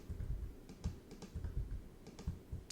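Keys clatter in an uneven run on an external Windows-style keyboard, a steady stream of quiet clicks with brief pauses and no voices.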